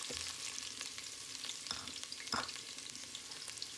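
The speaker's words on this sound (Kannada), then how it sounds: "ಇವಾಗ ನಾವು ಒಗ್ಗರಣೆಗೆ ಈರುಳ್ಳಿ ಹಾಕೊಳ್ತಾ ಇದೀವಿ" Onion frying in hot oil for a tempering, with a steady loud sizzle and occasional stirring scrapes in a pan throughout.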